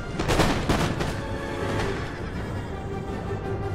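Volleys of musket fire in a battle in Empire: Total War, several loud crackling bursts in the first two seconds, then a rumbling, echoing tail that fades into a dull roar, no voices.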